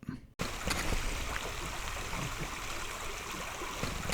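Creek flowing beside a forest campsite, a continuous broad rushing wash of water close by that starts abruptly after a brief moment of quiet and holds steady throughout.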